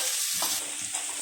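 Beans frying in a pan for samosa filling, a soft steady sizzle with a few scraping stirs of a spoon.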